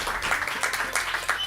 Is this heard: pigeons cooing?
no